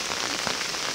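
Heavy rain pours onto a pond during a storm, a dense, steady hiss of drops striking the water, close and loud with no voices.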